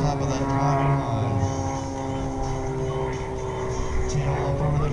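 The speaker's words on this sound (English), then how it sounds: "This extra 300, designed in Germany by Walter Extra, 300 horsepower Lycoming engine" An Extra 300 aerobatic airplane's 300-horsepower Lycoming engine drones steadily and loudly during air show stunts, its pitch shifting slightly as it maneuvers, with no pauses.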